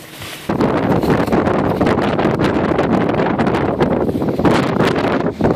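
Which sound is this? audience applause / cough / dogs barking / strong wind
strong wind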